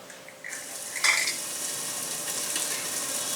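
Beef meatballs fry in a pan with a steady, dense sizzle. A brief clink of a utensil sounds near the start, with no talking.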